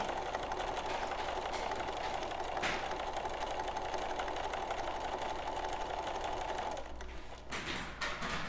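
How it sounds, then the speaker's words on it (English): A sewing machine runs steadily to stitch quilt binding to the back of a block, giving a continuous close mechanical hum and rattle that eases off near the end. "Now we need to go ahead and finish sewing it to the back of our block."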